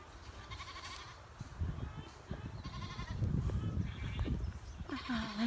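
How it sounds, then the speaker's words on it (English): Goats bleat on a farm, with a few short bleats over outdoor rustling and shuffling. One clearer, nearer bleat comes near the end, while people talk softly in the background. "There's another little goat coming up there."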